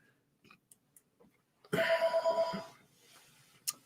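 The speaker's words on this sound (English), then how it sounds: "Excuse my phone." A phone rings once with a short burst of rapid electronic trills, fairly close and loud against a quiet room, with faint clicks before and after.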